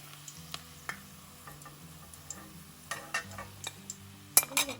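Stuffed bitter gourds fry in a pan, with a soft sizzle underneath. Occasional scrapes and taps of a utensil stirring against the pan sound close by, with a few sharper clinks near the end.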